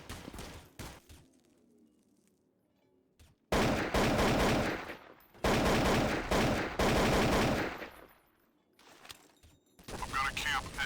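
Rapid gunfire bursts from Counter-Strike: Source on the Dust 2 map, loud and dense, coming in several long automatic volleys separated by quieter gaps with faint game sounds.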